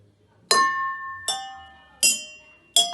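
Glasses holding different water levels are struck four times, each giving a bright, close clink that rings and decays at its own pitch.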